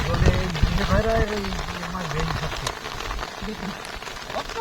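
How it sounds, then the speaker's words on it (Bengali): Rain falls steadily on water and ground in the Sundarbans during a high-tide fishing trip, a broad continuous patter beneath a voice talking nearby. "বৃষ্টির মধ্যে"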